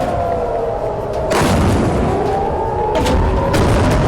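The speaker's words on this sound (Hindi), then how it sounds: "ईरान की मिसाइलों से धधक रहा है" Iranian missile strikes explode over Israel at night, heard as a deep boom followed by a second rumbling blast a moment later, loud and continuous with no voices.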